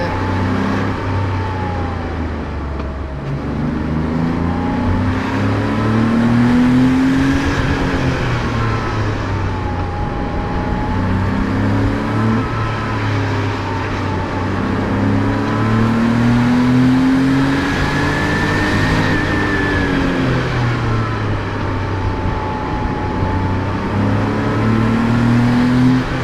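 A Porsche 911 Speedster design study prototype carries its speed through a series of corners, its engine note loud and steady as it swells and falls with each bend, with no voices over it.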